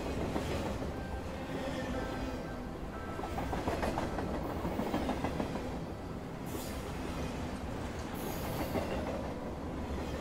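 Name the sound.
train running on rails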